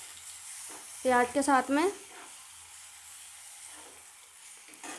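Tomato paste sizzles with sautéed onions in a pan while being stirred, a steady low frying hiss running throughout, with a short stretch of a person talking near the start.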